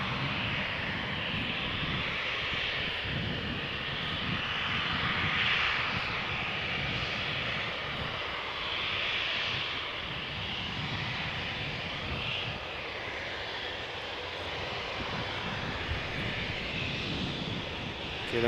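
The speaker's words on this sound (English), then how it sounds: "in the foreground a KLM Embraer 190 that has arrived from Dublin" A KLM Embraer 190 arriving from Dublin at Amsterdam Schiphol Airport, its engines producing a steady, moderately loud rushing roar that holds evenly throughout with slight swells, heard alone without talk.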